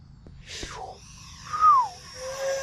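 Arrows RC Viper 50mm EDF model jet in flight, its electric ducted fan giving a thin, rising and falling whine that swells as it passes, then fades to a steady distant hum.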